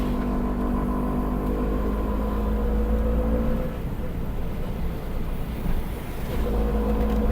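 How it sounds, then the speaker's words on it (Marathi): Steady engine drone and road rumble inside a moving auto rickshaw, continuous and fairly loud, with brief faint voices. "आता आपण रिक्षामध्ये बसलो आणि जातो"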